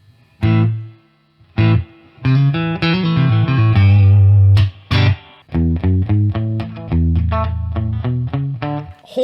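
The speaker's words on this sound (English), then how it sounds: "So now we have got a spring reverb." An electric guitar played through a Boss Katana 50 amp with spring reverb rings out in distorted chords and single notes, a few pauses between phrases and the notes trailing into a springy reverb tail, loud and close, with no voices.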